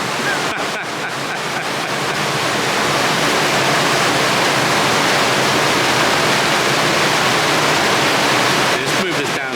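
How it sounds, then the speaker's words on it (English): Water floods into a canal lock in a loud, continuous roaring rush, steady and powerful throughout like a close waterfall, with faint knocks at the start and end. "look at the amount of water that's flooding in already"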